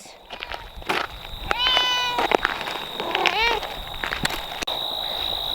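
A cat meows several times beside a windbreak near a high tunnel garden on a windy day, close and fairly loud, mixed with footsteps and rustling under a steady high tone.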